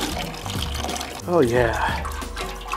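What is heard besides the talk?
water draining out of motorcycle gas tank bung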